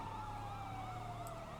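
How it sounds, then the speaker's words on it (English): A police car siren from LSPDFR in GTA V wails continuously in a rising and falling pattern, fairly faint and with no other sounds over it. "We're going to be putting our siren on here."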